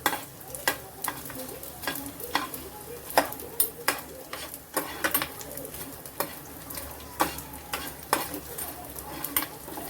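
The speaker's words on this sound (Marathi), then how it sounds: "आता थोडं तूप राहिलेलं आहे त्याच्यात आपण मखाने हे सगळे घालून घ्यायचे आपल्याला आणि हे पण छान भाजून घ्यायचे" Makhana (fox nuts) roast in ghee in a pan, a steady sizzle broken by frequent sharp stirring scrapes and clicks, close and moderately loud, with no one talking.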